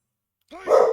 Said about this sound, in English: You can hear Archie barking a little bit.